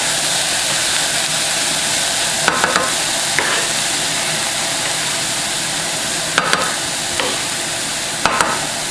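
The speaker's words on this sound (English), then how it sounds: "You should be able to smell that garlic cooking, okay?" Garlic cooking in a pot for chicken noodle soup gives a steady, close sizzle with occasional sharp scrapes or clinks of a stirring utensil and no talk.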